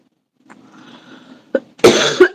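One sharp, explosive sneeze near the microphone, preceded by a quiet intake and a brief catch of breath, loud and abrupt against an otherwise quiet room.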